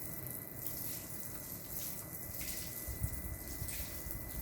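Water sprays from a camping outdoor shower head on its second, gentler speed setting, a soft steady hiss of falling water with slight pulsing, faint and close, with no voices.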